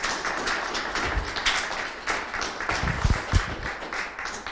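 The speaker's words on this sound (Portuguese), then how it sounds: "Uma salva de palmas a Jesus." A church congregation applauds during an evening service, with a dense, steady wash of many hands clapping together at moderate volume and a few sharper, closer claps standing out.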